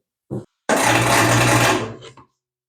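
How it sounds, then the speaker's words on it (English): A 1 3/4 horsepower table saw run off a portable battery power station tries to start: a short thump, then about a second and a half of loud, dense motor hum with strained whine that cuts out abruptly, with no talking. "I want to test the 1 3/4 horsepower table saw I have here"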